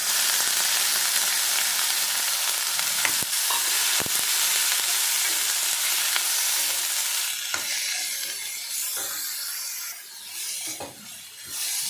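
Washed cauliflower pieces stirred into a pan of frying masala with turmeric and chilli powder for a cauliflower curry: steady close sizzle with scraping spoon strokes and clinks, the frying hiss brightening partway through, no talking.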